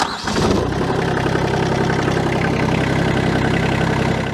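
The diesel engine of a TYM T25 compact tractor cranks and fires within the first half second, then settles into a steady, even idle. It stays close and loud, with no talking.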